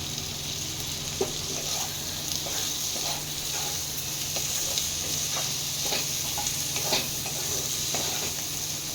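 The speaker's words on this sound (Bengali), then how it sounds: "মাশরুমটা যে আমি করে রেখেছিলাম সেটা এবার দিয়ে দেবো" Mushrooms fry in a sizzling spicy masala with chili powder and tomato in a pan, a continuous hiss broken by repeated clicking stirs and scrapes of a spoon, no speech.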